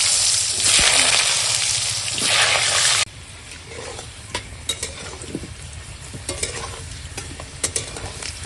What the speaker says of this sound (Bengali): এখন সব আলুগুলো ভেজে নেবো